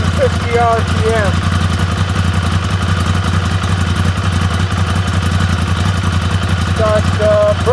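A Ducati Monster 796 motorcycle's L-twin engine runs at around 1250 RPM, a close, steady lumpy idle with a rhythmic clatter and brief chirping sounds near the start and end.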